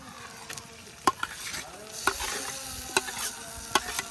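Potato and eggplant mash being stirred into small fried shrimp in a frying pan, with a steady sizzle and repeated sharp spoon scrapes and taps against the pan roughly once a second, close and fairly quiet.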